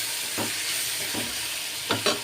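Tomatoes frying in oil in a pan, making a constant close sizzle broken by a few soft scraping strokes of a spoon, the last two quick and slightly louder.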